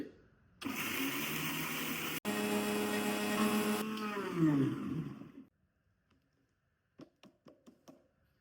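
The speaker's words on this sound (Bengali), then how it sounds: "মশলাগুলো আমি এখন ব্ল্যান্ড করে নিচ্ছি" An electric blender grinding whole spices into powder, a loud steady whirring roar for about five seconds that shifts pitch before stopping, followed by a few sharp knocks as the jar is handled.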